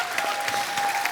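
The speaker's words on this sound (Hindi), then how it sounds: "अरे बहुत कम तालियां हैं, ज्यादा तालियां चाहिए आज वो" Studio audience applauding on a Hindi comedy show, a brief burst of dense, fairly faint clapping.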